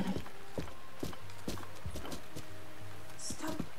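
A horse in Zelda: Breath of the Wild trots with a regular clip-clop of hooves, close and distinct, while a brief high chime sounds near the end.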